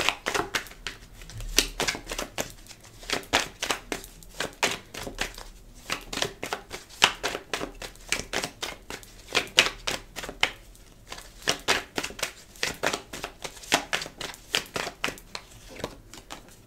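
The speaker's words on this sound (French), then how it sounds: "Je vais prendre un autre jeu de cartes." A deck of tarot cards is shuffled by hand: rapid, crisp riffling taps in a steady rhythm, close and fairly loud, continuing for the whole stretch with no talk.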